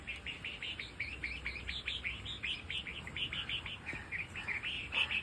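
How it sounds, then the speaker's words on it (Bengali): A bulbul calling near its nest in a garden, a rapid series of short bright chirps repeating steadily for several seconds, fairly faint against quiet background. "ওই বুলবুলিটা আওয়াজটা শুনতেই পাচ্ছেন হয়তো"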